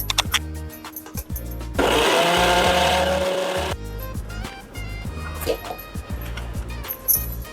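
A mixer grinder whirs loudly for about two seconds as it grinds fresh coconut with a little water for a Karnataka-style spring onion gojju, with kitchen clatter and a voice before and after.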